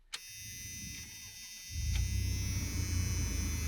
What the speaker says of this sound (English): I think the buzzer's for the e-brake.